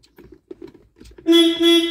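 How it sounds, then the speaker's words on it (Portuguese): Several soft clicks and rattles, then a newly installed horn on an Accelo 1016 truck blasts twice in quick succession, close by. "tu tem a a buzina bibi"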